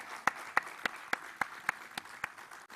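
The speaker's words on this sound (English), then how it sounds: "may I request you to kindly give a big round of applause for all our sponsors" Applause at a school opening ceremony and sustainability congress, heard as a slow, evenly spaced series of about nine sharp claps, fairly faint in a quiet hall.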